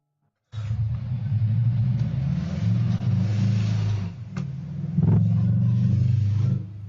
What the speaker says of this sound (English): That sounded like a motorbike.